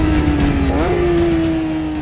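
A Porsche GT3 drives hard on a race circuit, its loud steady engine tone shifting pitch smoothly through a quick gear change and holding a high, even note, heard from close by without talk.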